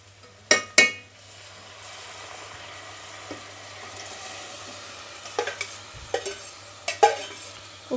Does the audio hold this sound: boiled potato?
yes